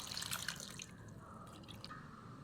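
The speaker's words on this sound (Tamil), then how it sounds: "புளி தண்ணி ஊற்றி" Tamarind water poured into a pot for fish curry, a faint trickling splash that fades within a couple of seconds.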